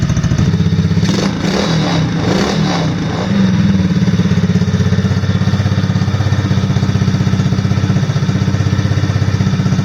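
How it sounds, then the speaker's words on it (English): A 110cc Chinese Honda-clone engine with automatic transmission runs steadily on a small new ATV, idling with an even putter and faint mechanical clatter close by, with brief blips of throttle early on. "Honda clone engine. Automatic transmission, running pretty good."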